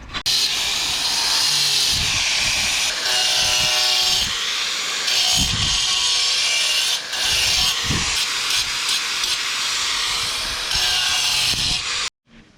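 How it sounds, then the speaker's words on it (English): Power tool grinding a chamfer around the back corners of a stone block during a stone repair, a loud continuous hissing, rasping whine running nearly unbroken for about twelve seconds before cutting off abruptly. "I'm just going to chamfer all the back corners and take like a 5mm chamfer off all the way around the back"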